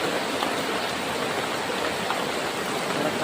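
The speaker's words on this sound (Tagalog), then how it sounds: "Grabe yung ulan tol. Hindi mapigil." Heavy rain pouring down steadily, a dense, loud, continuous hiss with no pauses.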